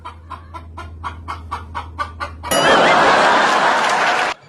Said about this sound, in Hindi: मुर्गी फौरन सही सलामत जिंदा खड़ी होकर आवाज निकालने लगी।